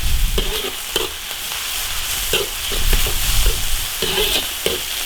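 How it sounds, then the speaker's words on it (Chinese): Beef shreds sizzle hard in a hot oiled wok with ginger, garlic and pickled peppers, a steady crackling hiss broken by repeated scraping stirs of the spatula. "牛肉丝爆炒"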